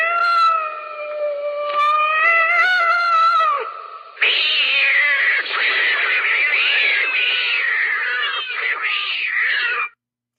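Cats fight at close range: long, wavering yowls and caterwauls for several seconds, then a louder burst of harsh, overlapping screeching and hissing that cuts off abruptly.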